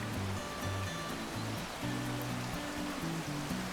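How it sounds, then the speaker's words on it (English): Steady rushing water over small waterfalls at Bridal Falls fills the whole stretch, a continuous bright wash with a low tonal pattern running underneath. "the sound of the water rushing through here is just beautiful"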